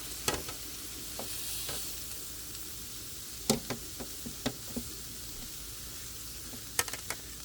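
Ribeye steak sizzling on a Ninja Woodfire grill, a steady close hiss that runs the whole time, broken by several sharp clicks and knocks from tongs or the grill, with no talking.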